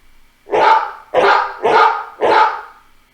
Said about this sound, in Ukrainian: А це хто? Так, собака. Що робить? Гавкає.